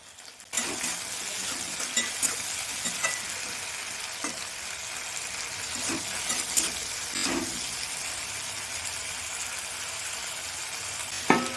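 Continuous sizzling of flat beans frying in a pan, with occasional stirring clicks and scrapes, fairly close and steady.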